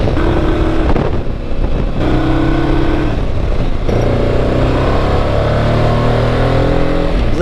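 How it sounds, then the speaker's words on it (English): A 1995 Honda Africa Twin motorcycle engine revving up and down close by, loud and throaty, with pitch rising and falling through several revs across the whole stretch. "Listen to that bike."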